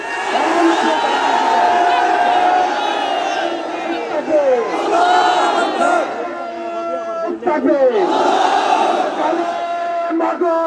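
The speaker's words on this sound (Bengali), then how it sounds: "দাঁড়িয়ে নারায়ে তাকবীরের ধ্বনি দিতে হবে" A large crowd at an outdoor Islamic political rally at Charmonai shouts the Nara-e-Takbir battle cry together, loud, sustained massed voices rising in repeated swells close by.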